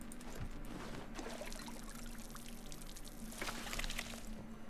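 Crops being watered in the RuneScape: Dragonwilds video game: a steady, fairly quiet splashing pour of water with trickling surges, continuing over several seconds with no voice.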